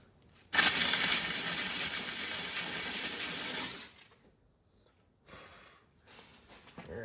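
A steam cleaner blasts into the neglected wheel wells of a Mustang with a loud, steady hiss for about three seconds, then cuts off, leaving faint scattered noises.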